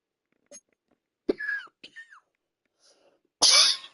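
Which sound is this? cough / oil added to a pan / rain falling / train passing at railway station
cough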